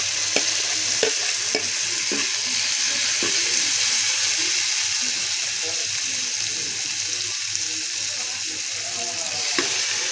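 Vegetables frying with garlic in a pan for a homemade soup, a loud, dense, continuous sizzle close by with occasional clacks of a stirring spoon, alone without talking.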